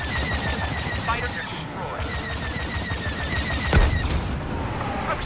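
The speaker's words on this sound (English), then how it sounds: "I wish they would stop shooting my ship." Spaceship under attack in Star Wars Battlefront 2, with continuous blaster and laser fire crackling around it, dense overlapping shots and a heavier impact near the end, all at steady loudness.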